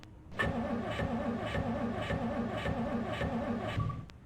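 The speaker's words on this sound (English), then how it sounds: "Having a vehicle turn over 3 times in a row for an engine that I think is in good condition is a statistic" A truck engine in Project Zomboid cranks in a steady rhythmic churn, its starter turning over roughly seven times across four seconds without catching, then cutting off abruptly.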